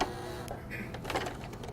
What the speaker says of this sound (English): Then you're going to lower the foot back down and sew across just till you get to the seam.